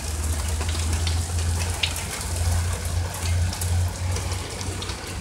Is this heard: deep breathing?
no